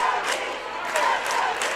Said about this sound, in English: Just emotions and cheering on their teams.